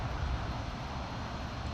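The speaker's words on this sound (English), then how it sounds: "Sounds like a plane, but I don't see any blinkers." An airplane flying overhead at night, a steady, faint, low engine drone that holds evenly throughout with no other sounds.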